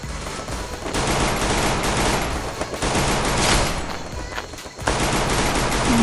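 Gunfire in the mobile battle royale game Free Fire, dense overlapping bursts of automatic fire and rapid shots, loud and nearly continuous with a brief lull before the firing resumes.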